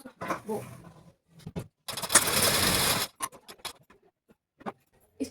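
A household sewing machine stitches along fabric where elastic will be inserted, giving a dense, loud whirring run of about a second amid short clicks and ticks of handling before and after.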